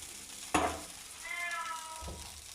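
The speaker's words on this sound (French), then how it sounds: "le chat se réveille" A cat wakes and meows once in a kitchen where chicken drumsticks are cooking, a short mid-level cry rising over the low background sizzle, preceded by a sharp knock and followed by a soft thud.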